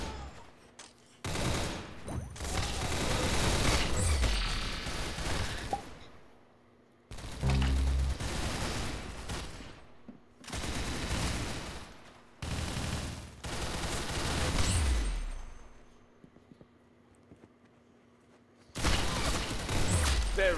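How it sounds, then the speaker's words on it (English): Gunfire rattles through a video game shootout in long, loud bursts of rapid automatic shots, separated by short quiet gaps and heard close without talk. "Very good shooting."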